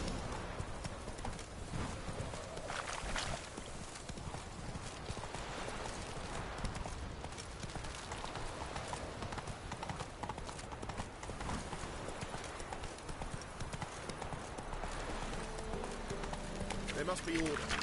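Horse hooves gallop steadily in The Witcher 3 video game, a continuous rapid clip-clop close up across the whole stretch, with a voice speaking over it at times.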